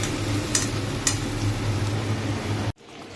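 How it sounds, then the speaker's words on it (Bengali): Fried potato pieces stirred with spices in a pan for an egg poach curry give a steady close sizzle under soft scraping, with two sharp utensil clinks early before the sound cuts off near the end. "এই যে আলুটা দিয়ে দিলাম, ভাজা আলুটা দিয়ে এবার এই মশলার সাথে ভালো করে কষাবো"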